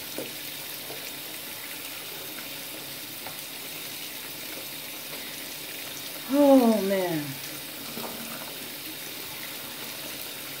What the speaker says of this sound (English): Let me turn the cold water down and get it melted.